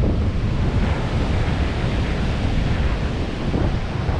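Ocean waves wash around a rock along an outdoor shore, a continuous loud surge and rumble of surf mixed with gusty wind buffeting the microphone, no speech.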